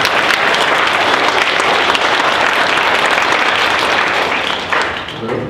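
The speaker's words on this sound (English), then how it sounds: "Give Erica a hand. Round of applause." Dense, loud applause from an audience at a talk welcoming a woman to the stage, steady sustained clapping that fades slightly at the end.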